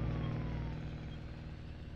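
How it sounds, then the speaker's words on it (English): In a farming video game, a police car's engine holds a loud, steady drone at close range, with a faint rising tone drifting across it. "Man, that police department car,"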